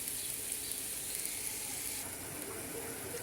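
Minced meat sizzles steadily in a pan as it releases its water, a close, even hiss with faint stirring underneath and no talk.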